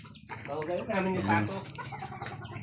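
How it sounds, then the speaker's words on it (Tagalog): Native chickens in a rural province clucking and squawking nearby, a busy mix of short calls from several birds, with people talking over them. "Ganito yung mga manok sa probinsya guys."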